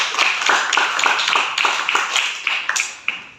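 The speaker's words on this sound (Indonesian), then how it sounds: "tepuk tangan." Students in a classroom clap for a classmate, a fairly small group whose separate, rhythmic claps stand out clearly as they beat together at close range, tailing off at the end.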